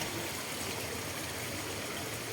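A cold, shallow stream runs over slippery rocks inside a cave, giving a soft, steady rushing hiss. It stays even and unbroken throughout, fairly quiet, with no voices.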